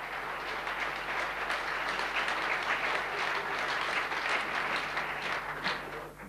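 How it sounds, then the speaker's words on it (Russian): Audience applause fills a hall at an actors' house evening honoring a writer, a steady, dense wash of many hands clapping at once that holds evenly from start to finish with no talk over it. "Аплодисменты творческому работнику."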